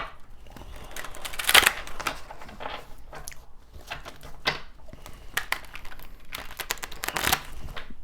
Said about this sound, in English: I'm having a hard time shuffling today.